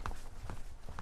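Footsteps pass in a corridor outside a hotel room at night, a few muffled thuds over a low steady background hum.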